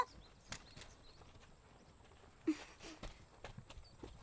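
Hooves of a horse pulling a cart clip-clop in an irregular series of faint, soft knocks over a quiet background.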